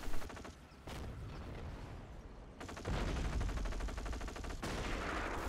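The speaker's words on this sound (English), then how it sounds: "Sniper's going to open up." Sniper rifle fire in a war video game: several loud, sharp cracks at irregular intervals over a dense, continuous rumble of battle noise.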